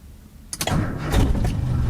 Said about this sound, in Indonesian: Ini cold start ya.